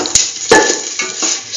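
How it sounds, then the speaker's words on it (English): Red chillies dropped into a hot pan for curried lentil rice: a few sharp clinks and pan knocks over a bright, steady sizzle, close and loud, with no talking. "Now put in the red chillies"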